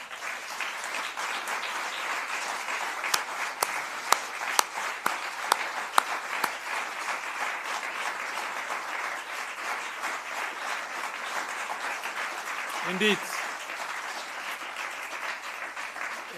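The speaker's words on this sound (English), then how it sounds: "Indeed, very much deserved. Huge applause." Audience applause for the winner at a Dutch embassy tulip award ceremony for Slovenian NGOs, a steady wash of clapping with a few sharper nearby claps; a voice briefly speaks over it near the end.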